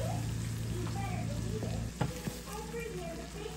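Lobster tails simmer in coconut milk with a steady close bubbling sizzle, interrupted by a few soft stirring scrapes and knocks partway through, with faint talk underneath.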